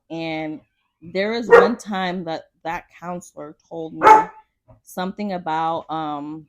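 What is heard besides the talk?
dog barking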